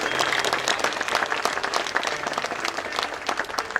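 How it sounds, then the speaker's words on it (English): Audience applause for children after a Class 1 school performance, a dense, steady wash of clapping from a full hall that carries loud and continuous throughout. "A big round of applause for our future leaders."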